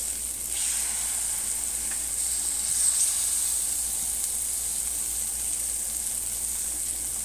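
Cheese sizzling in a Red Copper pan, a steady close hiss of frying that holds evenly throughout with no talk.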